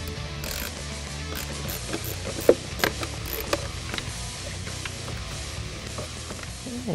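A socket ratchet loosening a bolt on the throttle body of a 2013-2014 Ford Focus ST: quick, light ratcheting clicks in short bursts, close by, over a steady background noise, with no speech.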